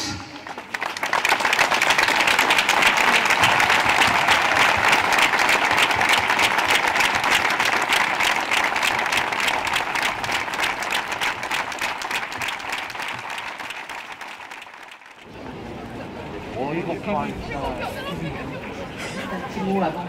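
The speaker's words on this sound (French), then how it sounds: "Applaudissons-les pendant une minute." A large outdoor crowd applauds for a full stretch at a memorial march for victims, dense clapping that fades before a pause, then chatter and scattered voices rise afterward.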